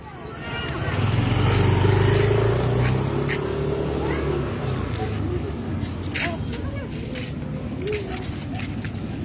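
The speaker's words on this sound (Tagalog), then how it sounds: "May motor, may motor lablab." A motorcycle passes outside a house on a neighbourhood walk. Its engine swells loud and near in the first few seconds, then fades into steady background noise while voices talk.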